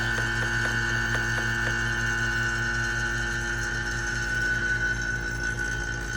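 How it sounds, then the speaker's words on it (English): A vacuum pump evacuating the air conditioning system of a 2003 Toyota RAV4 runs continuously with a steady whine and hum, a rapid rattling pulse repeating underneath, close and fairly loud, no speech. "And now you hear the pump rattling."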